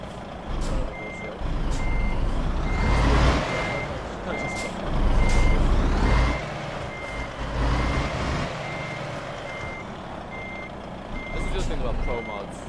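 A truck's reversing alarm beeps steadily at an even pace in Euro Truck Simulator with Pro Mods in the Balkans, joined by a low engine rumble while someone talks over it.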